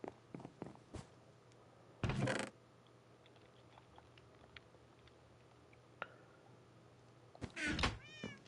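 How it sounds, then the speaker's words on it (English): A cat in the Minecraft video game meows in short bursts, a couple of faint mews and a louder drawn-out meow near the end, over quiet background with occasional clicks. "Hey, that's your cat"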